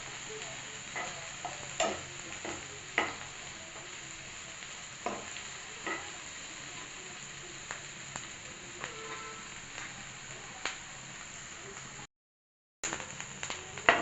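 An onion and tomato masala fries in a pan with a steady close sizzle. Scattered scraping clicks of stirring sound through it, and a brief dropout to silence comes near the end.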